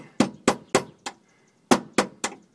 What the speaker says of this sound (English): I'm taking a punch and I'm carefully tapping